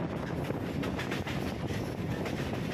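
A Kolkata Circular Railway train runs steadily, giving a loud, continuous rumble and rattle of wheels and wagons with wind buffeting throughout and no voices.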